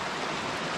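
A river rushes through the steep rock gorge of the Orrido di Chianocco, a dense steady hiss of flowing water, continuous and fairly close with no break.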